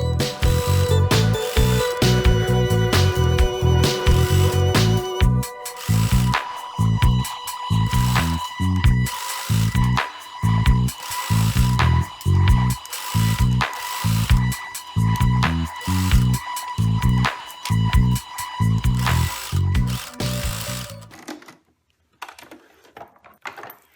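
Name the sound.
sewing machine stitching rick-rack onto a pillowcase dress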